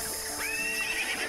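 A horse gives a loud, close whinny as it rears back, a rising and falling cry lasting about a second, with faint hoof clops beneath it.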